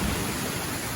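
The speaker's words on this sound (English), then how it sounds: "Just coming over here to show you the" Steady rushing water from a small waterfall in Bocas del Toro, Panama, with rough surf nearby: a dense, even hiss with no breaks, fairly near, and no voices.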